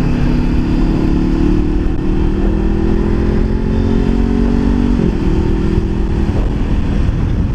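A Honda CBR500R motorcycle is ridden at steady speed, its engine droning loud and continuous with slight shifts in pitch, heard close up and mixed with wind rush, without speech.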